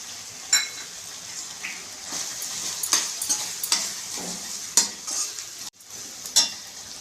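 Chettinad pumpkin tamarind curry sautés in a pan as chili powder goes in, a soft ongoing sizzle broken by repeated scraping stirs of a spoon against the pan, close and without talk.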